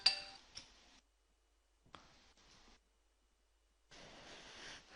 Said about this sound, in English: I didn't have my phone muted.